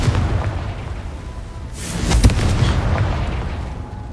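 A Confringo fire spell explodes in Hogwarts Legacy, a deep rumbling boom that swells midway and rolls on under a dense, continuous roar of game effects.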